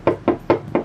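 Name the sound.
knocking three times on a house door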